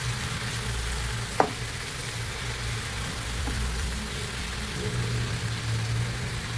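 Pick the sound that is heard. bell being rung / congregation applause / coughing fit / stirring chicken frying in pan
stirring chicken frying in pan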